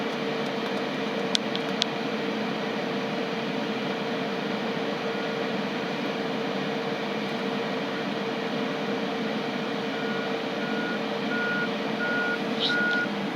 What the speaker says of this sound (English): Now you got the bulldozer right there, moving stuff.